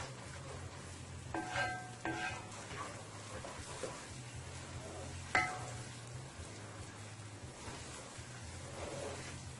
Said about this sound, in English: I'm going to go ahead and I'm going to scramble my eggs here.